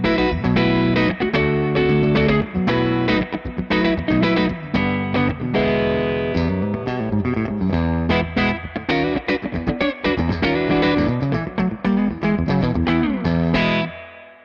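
Electric guitar played through a handwired Bad Cat Cub V amplifier with reverb, strummed in a percussive, aggressive way with a driven tone, and a reverb trail ringing out as the playing stops.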